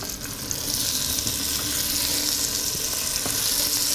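Pieces of meat sizzle and fry in rendered bacon fat in a cast-iron pot, a steady close hiss with small crackles and occasional pops throughout.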